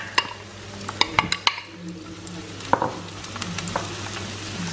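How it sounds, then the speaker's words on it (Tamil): Fennel seeds and curry leaves spluttering in hot oil in a pan for a cabbage and peas poriyal: a steady sizzle punctuated by several sharp crackles and pops clustered early, then a few softer pops and clinks. "ஸோ எண்ணெய் காஞ்சோன்னா சோம்பும் கருவேப்பிலையும் போட்டுடலாம். வந்து கொஞ்சம் பொரியட்டும்"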